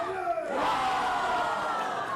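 A crowd at a podium ceremony in Cameroon roars and cheers in a sustained, dense wash of voices, with a rising shout near the start that swells and holds steady without a break.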